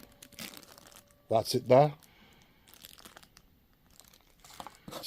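Plastic wrapping around a Behringer UB-1 micro unit crinkles in two short, loud bursts at close range during an unboxing, with someone speaking before and after.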